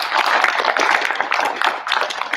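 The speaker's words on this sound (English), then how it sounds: "we'll give her a round of applause" A crowd applauds steadily, dense clapping filling the room for a couple of seconds.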